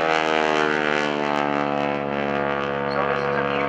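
A propeller aerobatic airplane flies a Cuban 8 with an extra roll at the 2012 NAS Oceana Airshow, its engine a loud, steady droning hum with a rich buzz of harmonics that barely wavers.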